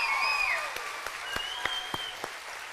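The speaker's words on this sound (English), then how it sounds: "Give them a round of applause, please." Applause from a school spring concert audience after a steel band piece, a bright wash of clapping with a few sharp individual claps standing out, as ringing pan tones fade at the start.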